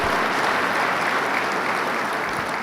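An audience at the CareerTech VISION 2013 general session claps for first-year teachers, a dense, sustained wash of applause filling the hall evenly from start to finish.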